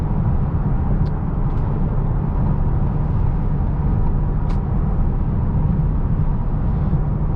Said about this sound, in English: at highway speeds, overall noise is pretty subdued